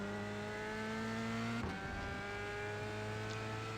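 A race car engine in the iRacing sim at Watkins Glen drones at high, steady revs with a strong whining tone, briefly dipping as it shifts before settling back to a sustained, loud howl.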